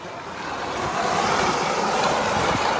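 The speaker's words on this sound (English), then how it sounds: "train is going around the corner." A continuous rumbling, hissing roar builds slightly and holds, like a train rolling along the track nearby as it rounds a corner.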